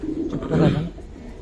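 Giribaz tumbler pigeons give a short, low cooing burst that swells in the middle and fades, heard close by with faint voices and other background sounds around it.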